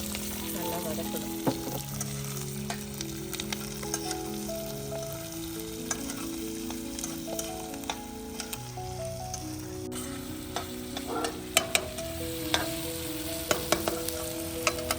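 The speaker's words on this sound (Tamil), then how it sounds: "இந்த கருவேப்பிலை, வெங்காயம் எல்லாத்தையும் போட்டு நல்லா வதக்கணும்." Curry leaves and onions sautéing in a pan with spices for a masala goat brain fry, a steady close sizzle with intermittent scraping stirs and clinks throughout, and a faint tonal hum underneath.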